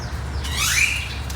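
A grackle gives a short electronic-sounding call, a rising then falling squeaky sweep over a faint outdoor background, a single brief phrase.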